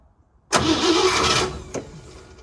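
A 1957 Chevy engine, freshly fitted with a carburetor after a brake job, cranks and catches into a loud, steady run close by for about a second, then drops back with a brief later blip.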